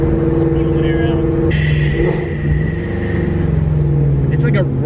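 Procharged Ford GT350 Mustang with a Tial blow-off valve, giving a loud, steady rushing hiss of venting air over deep engine rumble, with people talking over it.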